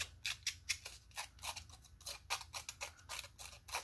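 Quick, crisp snips of scissors cutting through ordinary copy paper, repeating in an uneven rhythm, close and fairly quiet.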